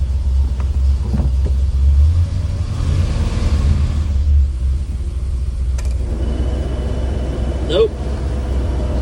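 A car engine idling and rumbling after an alternator swap, a steady low drone with a slight rev, while people talk over it.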